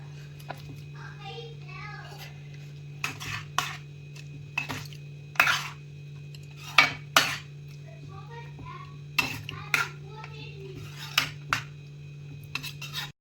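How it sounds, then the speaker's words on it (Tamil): Chicken pieces going into butter chicken gravy in a home kitchen pan, heard as intermittent clinks of a utensil against metal over a steady low hum, close by and moderately loud. "இந்த கிரேவியில் இந்த சிக்கனை ஒன்றா போட்டுடணும்."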